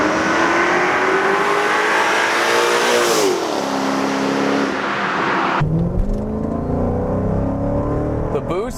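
A Mercedes E55 AMG engine revs hard under heavy acceleration, a loud rising roar that dips briefly around a shift and then climbs again, close and continuous with a voice talking over it.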